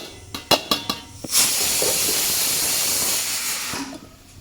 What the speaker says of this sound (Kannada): ಅನ್ನಕ್ಕೆ ಇಟ್ಟಿದ್ದೀನಿ ವಿಷಲ್ ಆಗ್ತಾ ಇದೆ